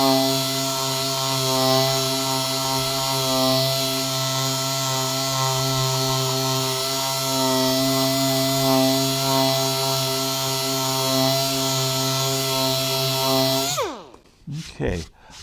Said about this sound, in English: I sand down to where the putty line is almost completely gone.